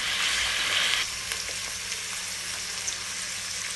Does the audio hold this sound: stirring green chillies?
yes